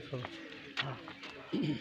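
A pigeon gives a short, soft coo at close range, mixed in with people talking nearby.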